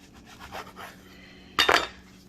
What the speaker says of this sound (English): So I slice it with the bread knife.